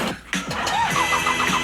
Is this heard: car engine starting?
yes